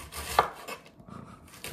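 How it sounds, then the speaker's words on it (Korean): A kitchen knife slices vegetables as thinly as possible on a cutting board while preparing a pasta salad, giving a few quick, close cuts with one sharp, louder knock against the board. "목적이 칼질이기 때문에 최대한 얇게 썰어줍니다"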